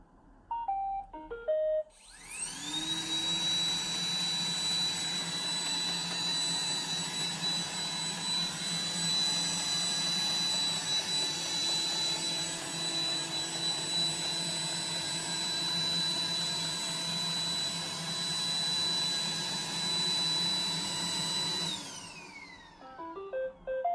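An iRobot Roomba 985 robot vacuum runs steadily for about twenty seconds, a continuous whirring motor drone with a high thin whine, starting and stopping with brief clicks and beeps, heard close and alone.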